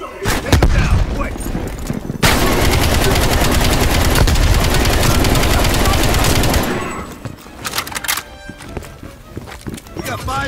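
Sustained automatic gunfire from a Call of Duty Black Ops Cold War firefight, loud and dense for several seconds, bracketed by scattered single shots and impacts, with game voices speaking around it.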